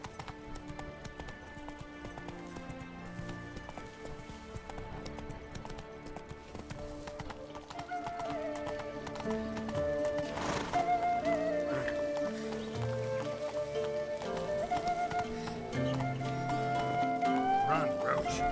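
Hooves of the horse Roach clip-clop at a rhythmic gallop in The Witcher 3 video game, with a brief whinny, under steady background music and occasional talk.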